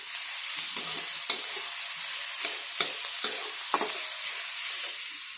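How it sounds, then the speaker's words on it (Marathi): Onion and tomato with green chili and curry leaves sautéing in a pan for matki usal: a steady, hissing sizzle broken by several sharp clicks and scrapes of a spoon stirring, close by with no talking. "कांदा टोमॅटो चांगला मऊ होईपर्यंत आपण परतून घेणार आहोत."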